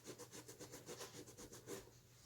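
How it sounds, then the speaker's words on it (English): A wet sponge or rag rubs paint-stained clothing in close, quiet, rhythmic back-and-forth strokes, heard alone. "We're just going to start rubbing it with a sponge or a rag."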